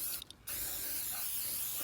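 Short hissing bursts of SC1 protectant sprayed onto car plastic trim, two or three quick pumps close by, then quiet.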